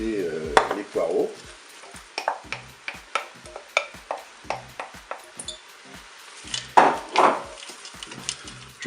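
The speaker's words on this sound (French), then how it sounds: "Je vais ajouter les poireaux." Leeks tipped into a hot Cookeo multicooker pot and stirred, with a run of sharp, evenly spaced spoon scrapes and taps over a light sizzle, close up and fairly loud.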